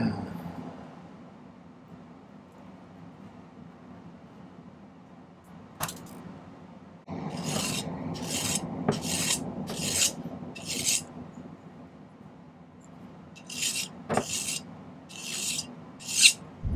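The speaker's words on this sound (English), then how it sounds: "I'm going to spend a little time cutting that and filing that down into a nice symmetrical oval" A hand file rasps against a silver ring being shaped into a symmetrical oval, with a quiet start then a run of repeated rhythmic strokes, close and fairly loud.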